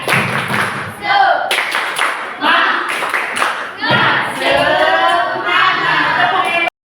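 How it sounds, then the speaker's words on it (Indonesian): A classroom of pupils performs the rhythmic 'tepuk semangat' spirit clap, sharp patterned hand claps mixed with children's voices chanting along, close and lively throughout. "Kita tepuk semangat untuk semuanya. Tepuk semangat."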